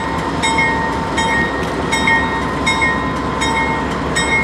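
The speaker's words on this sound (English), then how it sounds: "It's an NS mixed freight train. And he's got engine 4000 on him." A Norfolk Southern mixed freight train led by engine 4000 rolls past at Berryville, a loud, steady rumble with regular wheel clacks recurring about every 0.8 seconds and high metallic ringing tones.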